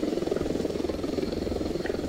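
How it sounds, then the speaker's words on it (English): Helicopter in the Ravenfield battle game, a steady rapid rotor thump with engine drone, loud and close and continuous throughout. "that's a blue helicopter, right?"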